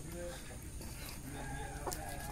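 Hill-breed roosters, hens and chicks cluck quietly in a pen, with soft murmuring voices in the background.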